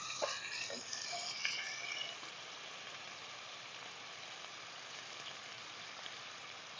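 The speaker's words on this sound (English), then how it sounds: "Let's get this onion in here." Chopped onion hits a hot cast iron skillet with bacon fat, giving a soft, steady sizzle that is a bit livelier in the first two seconds and then settles into a faint, even hiss with no talking.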